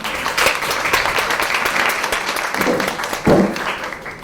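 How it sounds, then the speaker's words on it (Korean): Audience applause at a talk by a girls-in-robotics group, a lively round of clapping from a nearby crowd with a few louder close claps standing out and faint voices mixed in. "태웅님 뒤에 계시는데 박수 좀 쳐주세요"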